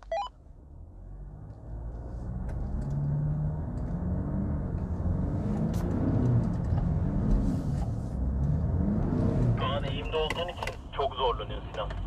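Engine of an off-road SUV, either a Jeep Wrangler Rubicon or a Land Rover Defender, laboring in low range up steep, deep terrain: a steady loud rumble throughout with rising strain, and speech over it.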